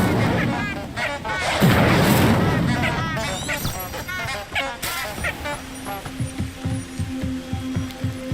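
A fire spell cast in the Hogwarts Legacy game whooshes and crackles loudly in a burst of magical effects, then fades into rhythmic game sounds and other effects, with a voice calling out the spell over the top.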